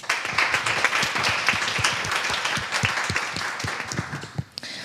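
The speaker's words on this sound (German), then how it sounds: "Ein kleiner Applaus für Daniel" Panel-discussion audience giving a short round of applause for a guest, a dense patter of claps from a modest crowd lasting a few seconds before fading out.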